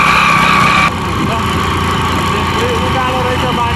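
A motorbike engine runs steadily throughout while riding uphill on a village road, a continuous close drone with a slight shift near the start and a rider's voice over it.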